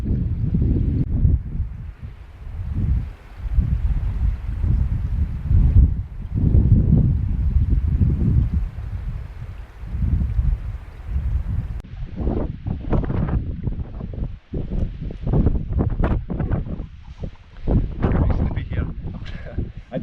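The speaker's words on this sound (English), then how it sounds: "this fairly strong blustery wind today" Strong blustery wind on the coast of Ardnamurchan in Scotland, buffeting a microphone in loud, rumbling gusts that rise and fall, with a voice speaking underneath.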